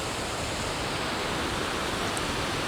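A river flowing beside a 2000-square-metre plot of land in a mountain valley in Georgia, a steady, even rush of water close by with no talk.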